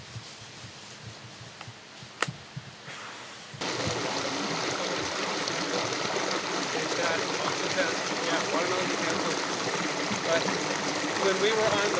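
River water rushing steadily through a stone canyon with natural rock bridges, starting as a faint trickle and then swelling into a loud, continuous broadband flow that holds to the end, with a few small knocks near the start.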